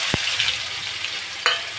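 Onion dropped into hot oil already holding dried chilli and nigella seeds, a steady close sizzle with a couple of sharp ticks as pieces land.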